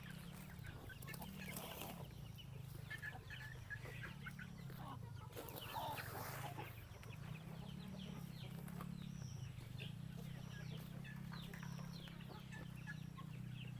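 Native chickens and chicks clucking and peeping steadily in a farmyard, with continuous busy calls layered over a low droning hum and no talk.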